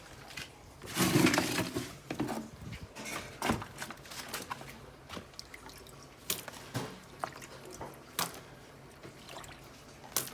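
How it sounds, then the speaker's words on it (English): Water drips and splashes in a paludarium, in irregular taps and small splatters spread across the stretch with one fuller splash early on, close up and with no talking. "splash some water on a couple bits of it, and then you'll get it to drip"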